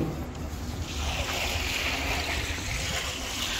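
A water pressure pump sprays water at a resort construction site, giving a steady, loud rushing hiss that continues unbroken and alone throughout.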